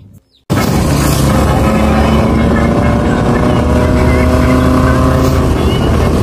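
A scooter with a modified CVT and rollers accelerates: after a brief quiet start, a loud, close, continuous engine and wind roar sets in abruptly and holds steady to the end.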